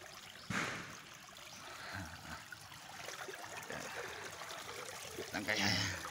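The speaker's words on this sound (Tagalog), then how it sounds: "Para madrin yung tubig lahat." Water draining out of the bottom of a PVC pipe at a harvest setup, a continuous trickling and gurgling flow with a sharp knock near the start and a louder splash toward the end.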